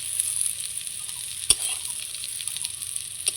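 Jackfruit pieces frying in a pan in a home kitchen, a steady soft sizzle hissing throughout with a sharp utensil knock midway and another near the end.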